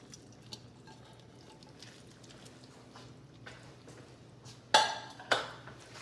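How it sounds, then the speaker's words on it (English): A spoon works shrimp through a keto Alfredo sauce in a pan, soft wet stirring under a quiet room hum, then two sharp metallic clinks of utensil on pan near the end. "Want to mix that around in the sauce real well."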